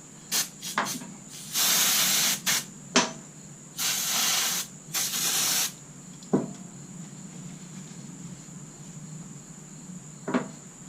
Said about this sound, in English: Spray them with some brake cleaner or something.